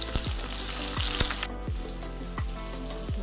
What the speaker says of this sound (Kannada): ಈರುಳ್ಳಿ ಕರ್ಬೇವಿನ ಸೊಪ್ಪು ಹಾಕೊಳ್ತಾ ಇದ್ದೀನಿ. ಈಗ ಚೆನ್ನಾಗಿ ಫ್ರೈ ಆಗಬೇಕು.